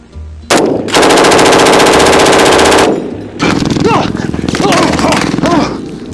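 A MAG 58 belt-fed machine gun fires two long sustained bursts, loud and close, with a short pause between them and rapid rhythmic reports filling each burst.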